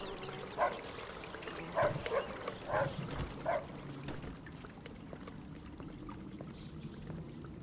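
Dog barking inside the Mafia II Definitive Edition video game, a series of four sharp, loud barks in quick succession over a low ambient hum, then fading to quiet background noise.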